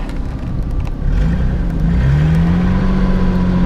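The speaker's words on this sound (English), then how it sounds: "you can tell the other wheel's spinning" A car stuck on a snowy hill spins one wheel while the engine revs, giving a steady low drone that rises into a sustained whine and holds there. Faint clicks sit over it, heard from inside the car with no talking.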